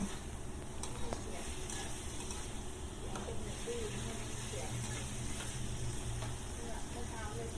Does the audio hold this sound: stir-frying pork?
yes